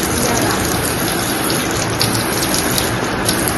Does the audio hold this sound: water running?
yes